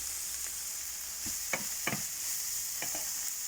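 Beef, onions and spices being stirred in a hot frying pan for chilli con carne, a steady faint sizzle broken by a few soft scraping strokes of the spoon.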